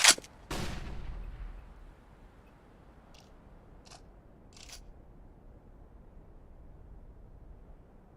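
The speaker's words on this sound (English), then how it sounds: "Throwing flashbang." A flashbang grenade thrown in a video game: a sharp, loud crack right at the start, then a second heavy burst that decays into a fading rumble, followed by a few faint, brief clicks.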